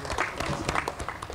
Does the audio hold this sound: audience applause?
yes